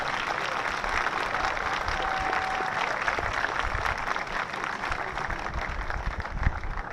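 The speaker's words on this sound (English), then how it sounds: "continue that round of applause for Aammarah Gage" Sustained audience applause at a STEM program event, a steady dense wash of clapping from a large crowd with no speech over it.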